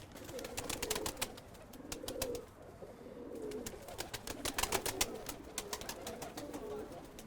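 A racing pigeon coos in repeated soft, low phrases close by, with sharp clicks and brief rustles scattered through and a faint voice in the background.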